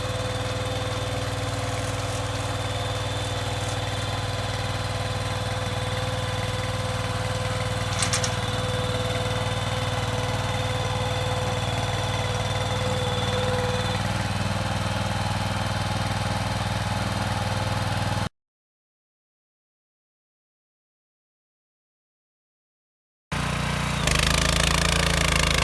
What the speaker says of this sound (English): I hired a rotavator, or the rototiller, to actually loosen up the soil